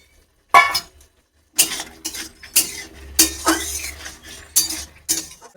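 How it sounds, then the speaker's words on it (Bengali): Tomatoes go into a pan of sautéed vegetables on a home stove, producing a series of clattering utensil scrapes and knocks against the pan, irregular and close, with a faint low sizzle underneath and no talking. "এবার এর মধ্যে টমেটোটা দিয়ে দিচ্ছি।"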